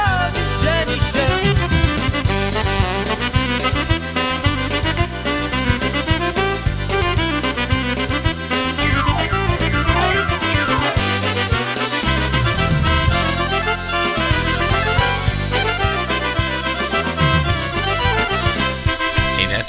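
Polka song plays continuously and loud, a full band with steady bouncing rhythm, no talking over it.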